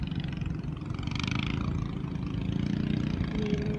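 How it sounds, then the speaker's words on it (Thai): A boat engine approaches from afar along the Chao Phraya River during record high water, a steady low rumble that swells slightly as it nears, with no one talking. "มีเรือมาด้วยเสียงดังมาแต่ไกลเลยค่ะ"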